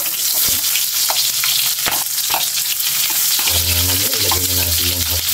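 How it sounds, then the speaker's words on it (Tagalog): Onions frying and sizzling in a pan as a simple hotdog dish is cooked, a steady loud crackle with stirring, joined near the end by a low humming tone. "Ilagay na natin yung sibuyas natin."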